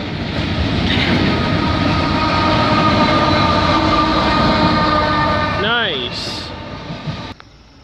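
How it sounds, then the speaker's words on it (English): A CN container freight train rolls past at Foley, Ontario, a loud, steady roar of wheels and rumbling wagons that continues throughout, with a short horn-like tone near the end before the sound cuts off. "we got another freight train coming. It's another CN train, eh? Another container one."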